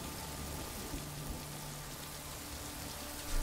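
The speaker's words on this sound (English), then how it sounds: "it looks like it's just raining on top of them and nowhere else" Rain pours in a John Wick movie scene as a faint, steady wash of drops with no speech over it.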